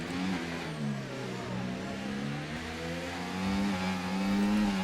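F1 car engine in the F1 24 game at Monaco, a high droning whine whose pitch shifts up and down as the car revs and shifts, steady and moderately loud.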